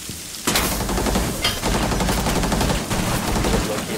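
A loud sustained volley of automatic gunfire in Rainbow Six Siege, fired at a mirror, bursting in abruptly and continuing close without talk.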